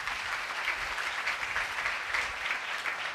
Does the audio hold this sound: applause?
yes